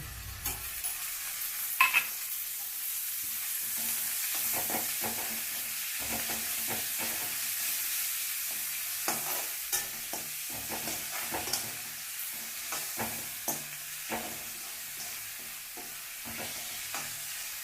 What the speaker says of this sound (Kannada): ಸ್ವಲ್ಪ ಇದಾಗುತ್ತೆ ರೋಸ್ಟ್ ಆಗಲಿ ಅಲ್ಲಿವರೆಗೂ ಹಿಂಗೆ ಬಿಟ್ಟಿರ್ತೀನಿ